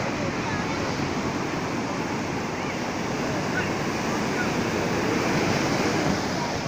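Ocean surf on Puri beach, a dense continuous roar of breaking waves, loud and close with wind across the microphone and no distinct breaks between swells.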